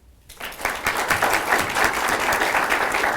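Audience applause welcoming a speaker onstage at a Startup Grind event, a dense, steady burst of many hands clapping that rises quickly after a brief quiet start and holds loud and even throughout.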